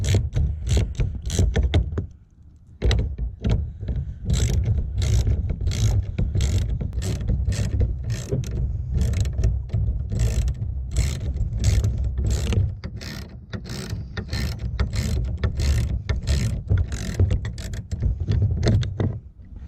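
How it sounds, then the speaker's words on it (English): A hand ratchet works a 10mm nut off the mirror handle of a 2003 Dodge Ram 1500, a long run of quick, loud metallic clicks in close bursts with one brief pause early on, no voices. "you could get that nut off of this handle right here with a 10mm"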